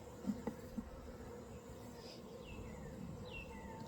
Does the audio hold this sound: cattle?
no